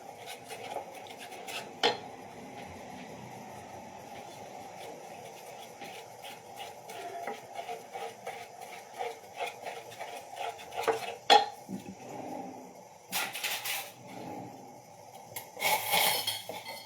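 Metal utensil stirring and scraping a cornflour mixture in a pan, steady soft clinks and rubs repeating for a long stretch, with a few sharper clanks of metal against the pan near the end.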